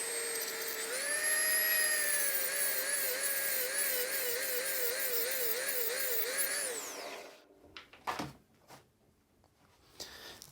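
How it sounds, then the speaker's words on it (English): A drill press runs with a steady high whine while a diamond tip sharpens a carbide scribe tip. The pitch wavers as the tip is pressed in, then the motor spins down and a few clunks of handling follow. "And yeah, flip on the drill press."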